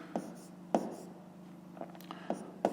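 Chalk or marker strokes writing fractions on a classroom board during a fifth-grade maths lesson, a few short separate taps and scratches spaced irregularly over a steady faint room hum.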